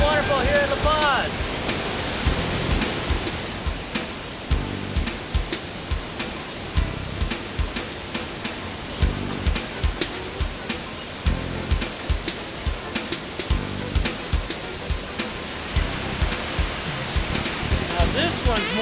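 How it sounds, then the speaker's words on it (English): La Paz waterfall in Costa Rica roars as a dense, continuous rush of falling water, with irregular clicks and bumps rising above the steady wash. "Waterfall here in Paz."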